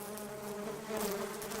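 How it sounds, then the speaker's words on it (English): Insect-like buzzing, as of bees or flies, forms a continuous droning hum that swells slightly louder toward the end, with no one talking. "Do you hear that buzzing?"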